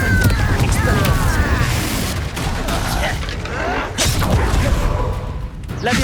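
Spell combat in the Hogwarts Legacy video game blasts loudly, with booming impacts and crackling bursts in quick succession while a voice shouts spell incantations over the fight.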